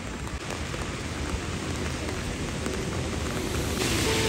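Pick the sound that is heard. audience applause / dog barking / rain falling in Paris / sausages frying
rain falling in Paris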